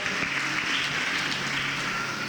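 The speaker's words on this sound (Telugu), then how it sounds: "గట్టిగా చప్పట్లు కొట్టాడు, గట్టిగా దేవుడికి స్తోత్రం" A congregation claps loudly in praise of God at a worship gathering, a dense, steady wash of applause from many hands lasting the whole moment.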